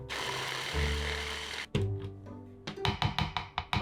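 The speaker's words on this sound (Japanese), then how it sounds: "解凍した豚肉もミンチにします。" A steady whirring hum gives way to a quick series of sharp knife chops as thawed pork is minced on a board, close and getting more rhythmic toward the end.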